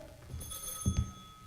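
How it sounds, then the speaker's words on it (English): A telephone rings once in a radio drama, a sound-effect ring heard clearly in a quiet scene, with a couple of soft low thumps near the end. "Via Madronis picked up a phone from underneath the counter. It was answered on the first ring"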